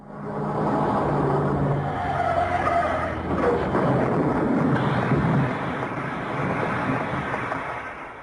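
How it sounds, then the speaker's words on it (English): A car skids with a long, loud tire squeal into a crash, the harsh noise sustained for several seconds with no talk. "There had been a car crash."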